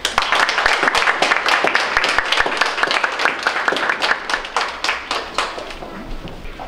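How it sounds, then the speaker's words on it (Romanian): A crowd claps steadily for several seconds, a dense, loud patter of many hands that tapers off slightly toward the end. "încă o dată aplauze."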